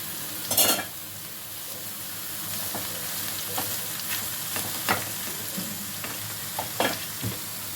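Ridge gourd pieces tossed into a pan of softened onions, a steady close sizzle with a few sharp scraping stirs and clatters, loudest near the start, no talking.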